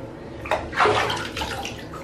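Water splashes and runs in a bathtub while a French bulldog is being bathed, with a couple of close, brief surges of sloshing over a steady wet background.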